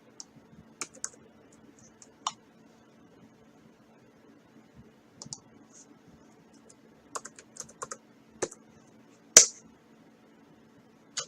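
Keystrokes on a computer keyboard, sparse clicks and short bursts of typing separated by pauses, close up in an otherwise quiet room, with one sharper louder tap near the end.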